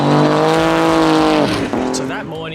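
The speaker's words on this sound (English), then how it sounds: "So that morning we kicked back watching these insane cars go past" Rally cars racing past on the rough, remote Finke desert track in Australia, a loud, close engine roar holding steady before shifting pitch and fading away, with voices talking over it.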